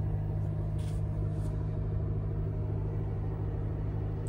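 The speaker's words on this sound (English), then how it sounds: "push button start, fires right up." A 2019 Land Rover Discovery Sport HSE idles steadily right after a push-button start, a low constant engine rumble heard close and alone with no talking.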